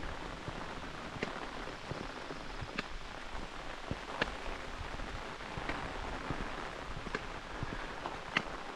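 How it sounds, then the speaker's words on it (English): Rain falls on a road along the Cohos Trail, a constant soft hiss with occasional sharper drop ticks close by, steady and fairly quiet with no one speaking. "But for today, we've got rain."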